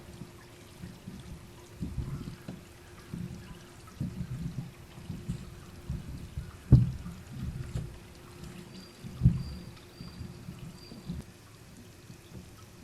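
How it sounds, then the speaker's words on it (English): Water pours onto a saturated soil profile in an erosion lab, a low gurgling, trickling flow of runoff with uneven surges and a couple of louder splashes, steady and nearby. "we've now dispensed about 15 liters of water onto the soil profile"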